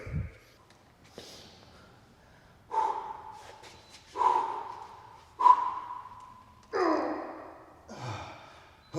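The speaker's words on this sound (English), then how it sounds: "Gotta breathe so I don't blow those blood vessels." During an upper body weightlifting set taken to failure, a man breathes heavily: forceful, groaning exhales and sharp breaths repeat every second or so, close and loud between quiet pauses.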